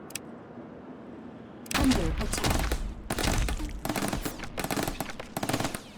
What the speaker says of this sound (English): apparently it takes some extra power to shoot autocannon shots